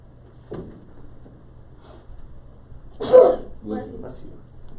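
A single sharp sneeze bursts out in a classroom during a math lesson, loud and close, followed by a shorter burst of voice and quiet room tone.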